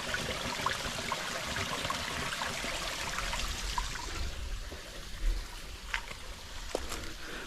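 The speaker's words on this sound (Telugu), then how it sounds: "వాటర్ అయితే ఫ్లో అవుతుంది" Water flows and trickles steadily down a hillside stream beside a mountain stairway path, a continuous close rushing wash with a few small splashes and knocks.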